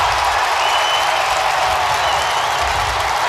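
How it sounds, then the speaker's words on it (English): A big crowd in a domed arena applauds and cheers after a goal at a college lacrosse game between Harvard and Syracuse, a loud sustained roar of clapping and voices throughout. "The crowd is on its feet."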